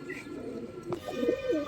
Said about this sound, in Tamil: இதுவும் வந்து ரொம்ப நல்ல புறாங்க